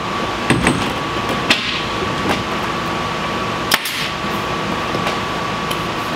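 A pneumatic nail gun firing into wood during wrap installation, a few sharp separate pops spaced seconds apart over a constant steady background hum.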